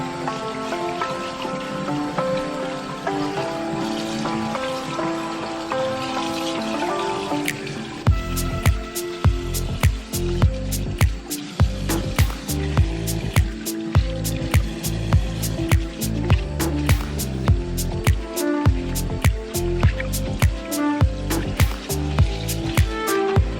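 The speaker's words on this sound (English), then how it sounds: "This is all gonna get a quick rinse now with some fresh water." Fresh water rinses a swim mermaid tail over a sink, first as a steady wash of running water, then as a rapid, irregular patter of close drips and splashes continuing to the end.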